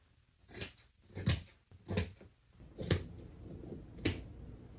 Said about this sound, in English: I'm just gonna go ahead and cut this straight across so I can get rid of this extra fabric